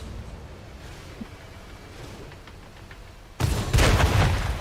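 Tank gunfire in a tank battle video game, a sudden heavy blast that bursts in after a stretch of low rumble and rolls on loudly to the end, with no talking.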